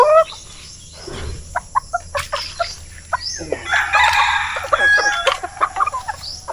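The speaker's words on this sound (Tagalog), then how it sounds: "Itong para sa ating mga alagang native na manok" Native chickens in a small farm yard, with a rooster crowing loud and close among repeated clucks and sharp bird calls, no talk.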